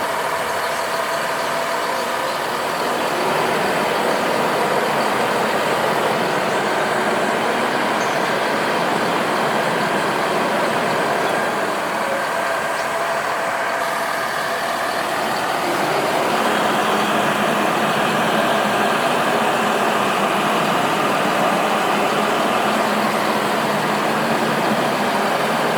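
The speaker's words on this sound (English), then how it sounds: "The longer you hold it, the faster the drum is going to rotate." A hydraulic Panther T16 concrete mixer drum turns steadily with a continuous loud mechanical rumble and engine drone, close and unbroken, with a slight shift in tone partway through as the rotation speed changes.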